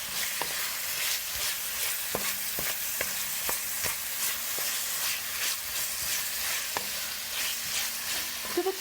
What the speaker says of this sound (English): I've added tindora and I have sprinkled salt for taste, and I'm going to nicely mix this so this gets blended in the masala